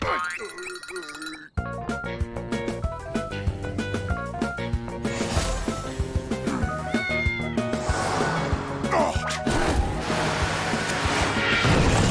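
An animated kitten meows several times over a busy cartoon music score with boings and crashes, the cries loud and clear after a brief quiet start.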